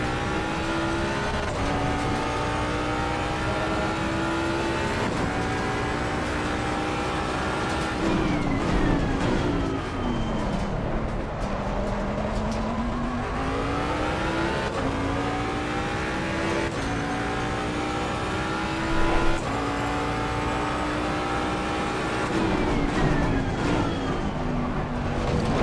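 GT3 race car engines in the Assetto Corsa Competizione sim at Zolder, roaring loud and constant as revs climb and drop through shifts and braking, with no talk over them.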